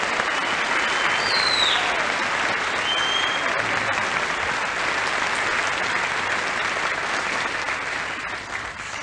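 Studio audience applauding a song performance at a BBC Light Programme pop show, a dense steady clapping that carries the whole stretch and tapers slightly toward the end.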